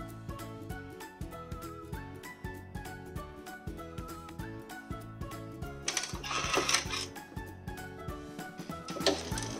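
A sewing machine runs in quick bursts of rapid rhythmic stitching while sewing a zigzag appliqué, with short pauses between runs and a brighter, busier stretch near the end, heard up close.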